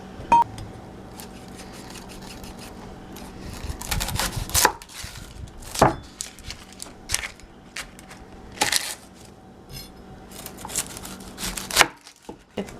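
A knife chops ground turkey into cubes for a crock pot pot roast, giving irregular, close, sharp knocks on a cutting board with brief quiet gaps between them.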